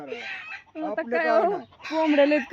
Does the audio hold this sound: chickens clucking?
yes